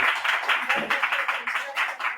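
A church congregation clapping together, a dense run of fairly even hand claps that keeps going steadily throughout at moderate loudness.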